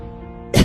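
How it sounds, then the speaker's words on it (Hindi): A woman lets out a single short, sharp cough right at the end, after a stretch of soft sustained background music. "ये खांसी कब खत्म होगी?"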